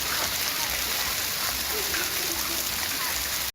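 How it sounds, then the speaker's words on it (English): Hail pounds down in a dense, unbroken roar of pelting ice, loud and close, holding steady before cutting off abruptly at the end. "this teenage boy endures a hailstorm in his underwear for the sake of making a video"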